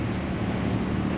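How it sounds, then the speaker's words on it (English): Wind blows steadily across the microphone outdoors, a loud, constant low rumble with no pauses and no talk. "It's windy, oh."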